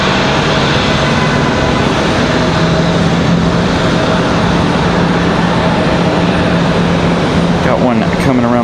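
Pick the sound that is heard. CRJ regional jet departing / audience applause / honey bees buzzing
CRJ regional jet departing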